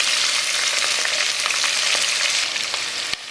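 Onion and green chillies fry in hot oil in a pan, a loud steady sizzle with faint clicks of stirring, heard up close with no voices.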